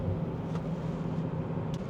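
A Tesla driving on Full Self-Driving gives a steady, low interior road rumble and tyre hum, constant and close throughout with no clear speech.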